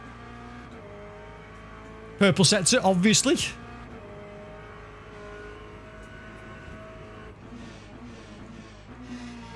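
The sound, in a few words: race car driving in Le Mans Ultimate video game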